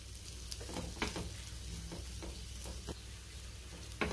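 A ball of thalipeeth flatbread dough cooks on a hot tawa, giving a soft, steady sizzle and frying hiss with faint scattered crackles and small clicks.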